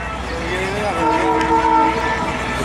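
Train at the colonial-era wooden and wrought-iron railway station in Morón, Cuba, giving a sustained horn-like tonal blast over steady rumbling, moderately loud and continuous, with no talk.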